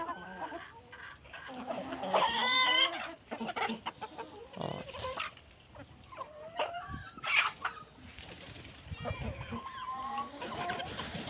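Chickens cluck and squawk nearby in an irregular chorus, with scattered rustling and flapping around them.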